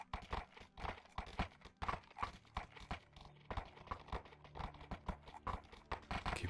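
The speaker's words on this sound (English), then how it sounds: "Whose horse is this?" Horse hooves clip-clop in a steady, continuous rhythm, close and clear, with no voices over them.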